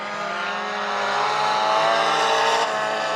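Race cars roar around the Maquoketa Speedway track, among them a black 4-cylinder car, with a loud sustained engine whine that swells as they pass close, and no talking.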